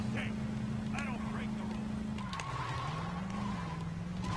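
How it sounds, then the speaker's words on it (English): Car skidding through a handbrake U-turn in Saints Row 2, a sustained tire-squeal tone that wavers and dips midway over engine drone, with a person talking faintly underneath. "That was the worst handbrake U-turn ever"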